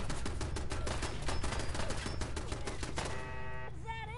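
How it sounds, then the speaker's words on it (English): Wall turret gunfire in the Fallout 4 video game, a rapid, loud burst of mechanical shots that stops abruptly, followed by a short electronic tone. "Oh, it's a wall turret."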